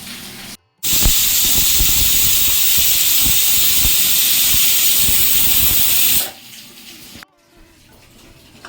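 A pressure cooker lets off a loud, steady hiss of escaping steam for about five seconds while a gravy-style cluster bean curry cooks. The hiss then cuts off abruptly, leaving quiet kitchen background.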